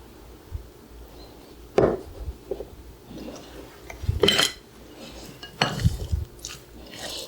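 Mango, avocado, bell pepper, onion and cilantro salsa dressed with olive oil and lime is stirred in a bowl, giving several irregular wet scraping and clinking strokes of a utensil against the dish.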